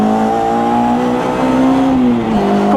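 A Lotus Elan 26R race car is driven hard on a track. Its engine holds a loud, steady, high-revving note close by, with a slight dip near the end.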